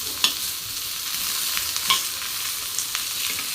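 Onion frying in a pan for chicken sukka, a continuous hissing sizzle close by with a few sharp spatula scrapes and clicks, no voices.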